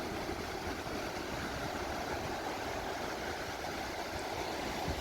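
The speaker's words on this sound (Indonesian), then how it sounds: "suara ombaknya cukup keras dan cukup nyaring." Ocean waves break against the shore and coral rocks at Srau beach in a steady, continuous wash of surf at moderate distance, with no talking.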